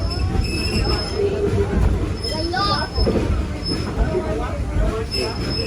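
A passenger train pulls into a station, its wheels squealing in thin high-pitched whines over a steady rumble of rolling stock, while people talk nearby.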